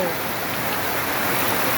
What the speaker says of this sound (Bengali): বাইরে বৃষ্টি রে, বৃষ্টি এরকম ভাবে বৃষ্টি আসতেছে।